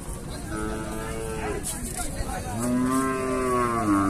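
A cow moos loudly and close by at a cattle market in Bangladesh, a long drawn-out low call near the end, with people talking nearby throughout.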